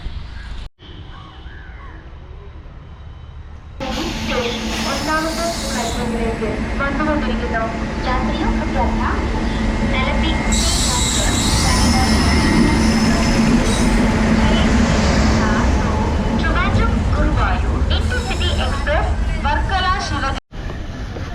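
A train rumbles steadily past at close range, a broad continuous roar with a low hum running through it, and a faint voice briefly audible at the start.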